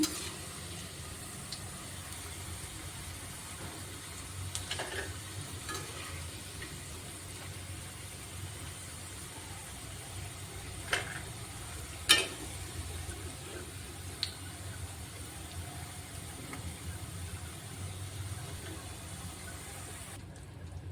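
Bitter gourd pieces frying in hot oil give a soft, steady close sizzle with faint bubbling, broken by a few sharp clicks of a utensil, and nobody speaks.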